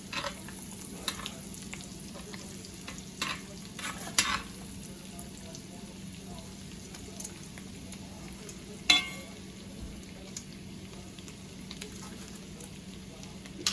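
Lamb loin chops sizzle and fry in a cast iron pan with garlic butter, a steady low crackle with occasional stirring clinks and scrapes throughout.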